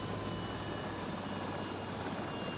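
Apache helicopter gunships arriving at a forward desert base during the Gulf War, heard as a loud, steady, continuous rotor and engine roar with no break and no voices.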